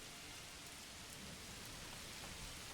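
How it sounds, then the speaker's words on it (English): Steady rain in the medieval city-building game Manor Lords, a continuous even hiss of falling drops, faint and unbroken with no talk. "you've got the rain element now"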